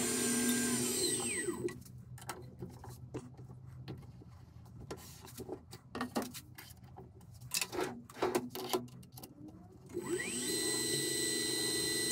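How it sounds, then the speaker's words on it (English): A hand file works a chamfer on a 316 stainless steel chuck key, giving a series of irregular scraping strokes, framed at the start and end by a steady machine whine. "I'm just making that chamfer a little bit bigger and cleaning it up with the file."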